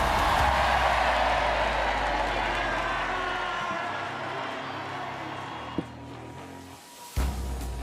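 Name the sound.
crowd cheering at the Rogue Invitational in Aberdeen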